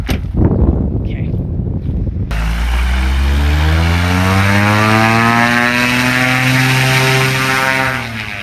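A small propeller plane takes off, its loud engine rising and roaring steadily close by for several seconds after a brief muffled opening, then easing slightly at the end.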